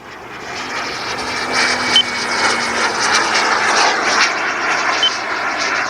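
Boomerang Lancer RC model jet in flight, its engine a loud sustained whoosh and whine that swells and eases slightly as throttle changes, heard from a fair distance outdoors with no talk.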